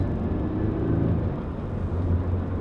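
A 2014 Toyota GT86 with its Subaru-developed FA20 flat-four engine and an HKS catback exhaust, producing a steady, continuous low engine rumble that holds even without any talking.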